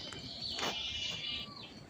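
Sparrows chirp in a rural village garden in the morning, a steady wash of high, bright twittering that runs through the whole stretch with one louder burst partway, close and fairly loud.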